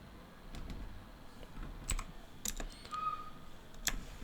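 Soft, close typing on a computer keyboard, a few scattered key clicks and taps in a quiet room with no talking.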